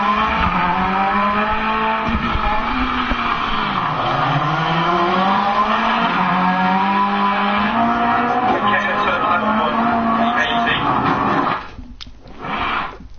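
Rally car in the Dirt Rally video game swinging into a flick, engine revving hard with rising and falling pitch as the tyres skid and scrub, loud and close, before it briefly cuts out near the end.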